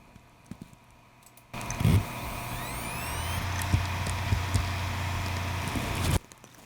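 A liquid-damaged hard drive whirs to life at startup with a steady mechanical hum and faint rising whine, a few soft clicks along the way, then cuts off abruptly.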